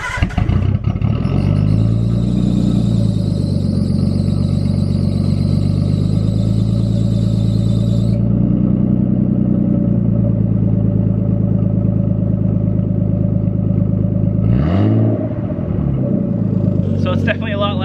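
A Nissan R32 Skyline with a straight-pipe exhaust from the cat back idles loud and deep, its rumble repeatedly swelling and easing with slow revs, a sharp blip near the end, heard close by.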